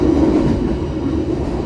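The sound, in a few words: passenger train running on rails, Surabaya–Banyuwangi business class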